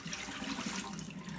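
Water runs steadily while sprouts are rinsed, a constant close rushing flow like a tap filling a jar, with no talk.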